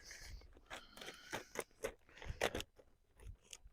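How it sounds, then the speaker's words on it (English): Scissors cutting the top off a plastic compost bag, a close run of crisp snipping crunches and rustles in quick bursts, with no speech. "I'll be able to cut the top off the bag with my scissors."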